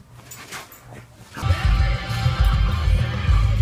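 Dogs on the way to a dog park, faint yips and whimpers first, then loud close barking and excited whining that keeps going to the end.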